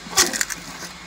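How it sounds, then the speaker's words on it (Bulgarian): A cone log splitter keeps splitting a log on flywheel momentum after its engine has stopped, giving a short close burst of cracking and splintering wood with a few smaller snaps following. "даже той продължава да цепи след като е спрян двигателя"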